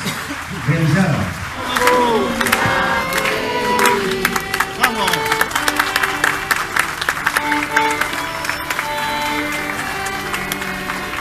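A crowd at a library's centenary plaque unveiling applauds and cheers loudly, dense clapping with shouts and whoops, a voice rising briefly over the noise.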